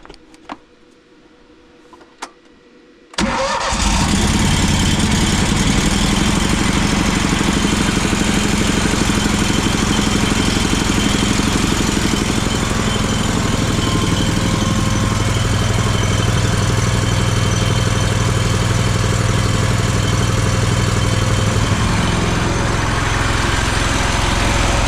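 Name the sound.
drywall texture spray trailer engine starting and idling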